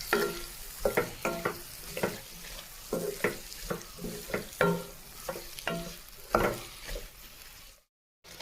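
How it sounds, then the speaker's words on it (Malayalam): Spoon scraping and stirring through tomato, onion and curry leaves frying in a pan, soft repeated strokes over a gentle sizzle, close and fairly quiet, cutting to silence briefly at the end. "എന്നിട്ട് എല്ലാം കൂടെ നല്ലപോലെ ഇളക്കുക."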